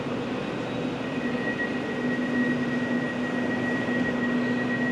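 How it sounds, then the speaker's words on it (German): A Hannover S-Bahn class 427 electric commuter train hums steadily with a high whine and a constant rushing noise, no voices. "Hier ist nochmal unsere schöne S-Bahn."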